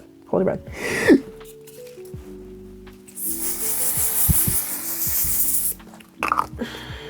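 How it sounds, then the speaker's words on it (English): A long steady hiss of an aerosol makeup setting spray lasting a few seconds, preceded and followed by soft handling noises and brief voice sounds. "Give it a good spray."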